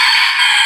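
A brief, loud burst of a rooster crowing, heard up close as a short bright fragment with nothing else around it.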